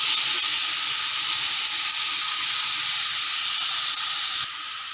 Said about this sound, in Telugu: 4 to 5 minutes వరకు మంచిగా ఫ్రై చేసుకోవాలి.